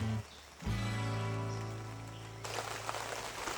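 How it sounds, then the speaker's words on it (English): Steady rain drumming on an overhead canopy, a dense continuous patter that grows louder and harsher toward the end, with a low hum beneath. "it is raining really good right now over the canopy"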